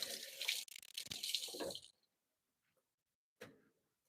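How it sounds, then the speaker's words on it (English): Tap water runs into a kitchen sink as greens are rinsed, a splashing, hissing stream for about two seconds, then silence before a short final splash. "I'm going to give these a quick rinse."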